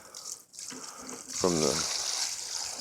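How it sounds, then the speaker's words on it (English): Water is poured from a container onto a garden plant, giving a steady splashing trickle that swells midway and carries on to the end, with a faint voice underneath. "just gonna go ahead and dump a little more water"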